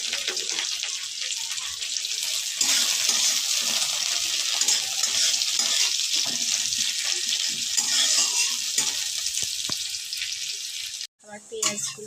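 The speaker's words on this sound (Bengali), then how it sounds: "আমার পেঁয়াজগুলো ভাজা হয়ে গেছে" Onions with whole green chillies sizzle and fry steadily in a pan for a fish curry, a constant bright hiss with occasional stirring, broken by a brief pause near the end.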